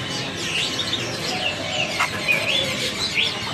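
Caged birds in a bird shop kiosk selling magpie robins in Medan chirp and call in overlapping bursts, with some clucking fowl among them, over a busy, noisy background.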